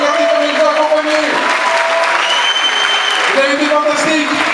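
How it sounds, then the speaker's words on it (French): A concert hall audience claps steadily after a show in Gruchet-le-Valasse, a dense wash of applause lasting the whole stretch while someone speaks French over it on the sound system. "On applaudit la salle qui était formidable."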